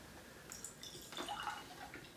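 Red cabbage juice pH indicator liquid being poured, a soft trickling and splashing stream that swells midway and then tapers, close and fairly quiet with no talk.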